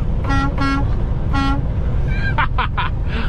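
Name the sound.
truck horn honking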